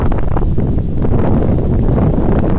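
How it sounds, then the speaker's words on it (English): Strong wind on the Oregon coast roars and buffets the microphone in a loud, continuous rumble with no pauses. "Hear the wind"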